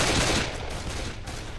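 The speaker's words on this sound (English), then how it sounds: "Watch where you're shooting." Sustained gunfire rattles through a zombie-apocalypse level of the video game Left 4 Dead, a loud continuous burst of rapid shots that fades slightly but keeps going.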